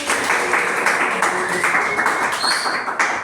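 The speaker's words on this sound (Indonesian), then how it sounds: "Tepuk tangan buat kita semua di sini." A class of pupils claps in a steady, rhythmic patter at the end of a microteaching lesson, close and fairly loud throughout.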